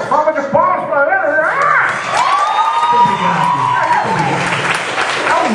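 A studio audience breaks into applause with cheering and whoops after an impression act, and shouting voices ring out over the clapping before it fades into a loud crowd murmur.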